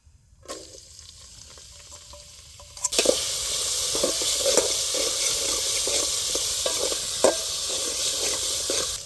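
Onions frying in hot oil with pulao whole spices, a loud steady sizzle that jumps up sharply a few seconds in after a quieter start, with occasional stirring clinks and scrapes.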